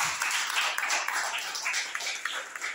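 Congregation clapping during a church worship service, a steady dense patter of many hands at moderate loudness, continuous across the whole stretch with faint voices mixed in.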